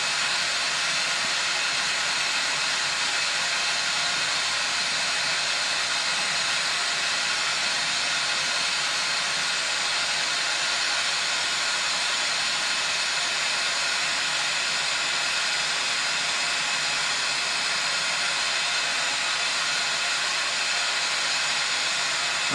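A torch roaring with a steady broadband hiss while heating a glass blob for a rocking horse sculpture, loud, constant and close throughout with no voices.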